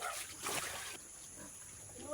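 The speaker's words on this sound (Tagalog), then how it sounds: "tignan niyo ang mga baboy kumain" Pigs feeding on a farm in the mountains, with wet splashing, squelching and snorting noises close by in short bursts, loudest early on, then softer steady munching.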